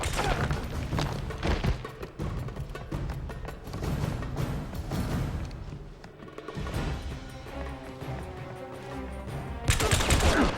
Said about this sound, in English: Apparently the bad guys aren't out of grenades.